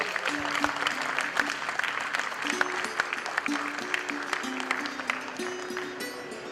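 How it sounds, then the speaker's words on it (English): Steady applause fills a closing ceremony hall as the audience cheers the organizing team, dense clapping laid over faint background music. "have a huge round of applause for them also"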